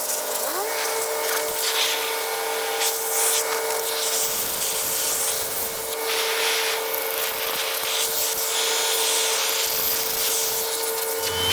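On a 35-ton excavator final drive, the ends of studs are cleaned with a power tool ahead of welding, giving a continuous loud grinding and rubbing hiss that stays steady throughout.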